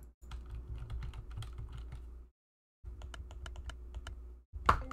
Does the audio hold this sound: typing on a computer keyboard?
yes